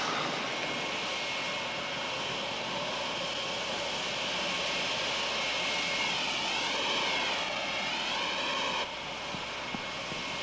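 Jet airplane engine roaring steadily and loudly for the whole stretch, a broad continuous rushing drone with a shifting whine, then a slight drop near the end; no voices.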